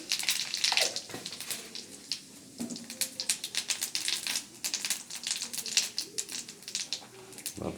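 Cumin seeds hit hot oil in a wok on a gas stove, giving a close, busy crackle and spitting sizzle with rapid irregular pops throughout, at moderate loudness.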